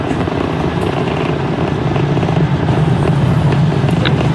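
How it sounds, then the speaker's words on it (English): SpaceX Falcon 9 rocket climbing after launch on the Polaris Dawn crewed mission, a loud, dense broadband roar and rumble sustained throughout, with no speech over it. "T plus 35 seconds into the Polaris Dawn mission, flying crew on board Dragon and Falcon 9 to new heights."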